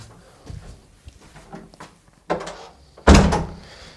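A door being closed inside a house near a basement studio: quiet shuffling and handling, then two thuds, the second one a loud, close shut.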